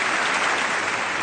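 Members of the US Congress applaud the Pope's speech, a dense, even wash of clapping that fills the chamber without a break and with no voices over it.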